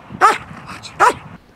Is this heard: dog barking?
yes